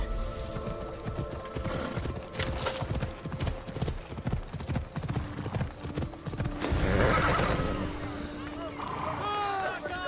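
In the video game Assassin's Creed Odyssey, horses neigh and whinny amid steady clip-clopping hooves, with a voice speaking at times and a brief burst of water or engine noise.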